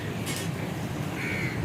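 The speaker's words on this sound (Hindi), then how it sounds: "कौवा भी आ गया, देखिए ना, चोरी करके ले गया ना रोटी कौवा।" A crow caws outdoors near a home on a cool, breezy day, giving two or three harsh calls fairly close over steady background hiss with no talk.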